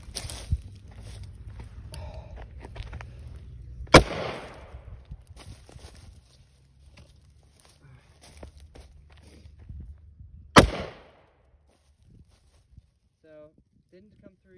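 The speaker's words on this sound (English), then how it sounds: "Let me just shoot it a few more times now." Two sharp, loud gunshots fired at an Iron Man proof-of-concept armor plate, spaced several seconds apart, with handling noise, movement and a voice speaking between them.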